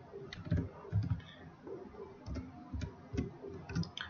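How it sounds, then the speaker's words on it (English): Keys on a computer keyboard are tapped in an uneven run of soft clicks, close and fairly quiet. "click on the tab key on your keyboard, it will shift to another column, tap again, shift, tap again"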